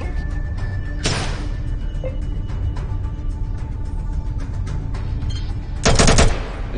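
Gunfire in the video game ATOM: two sharp bursts of rapid automatic fire, one early and a longer, louder one near the end, with scattered single shots between over a constant game background.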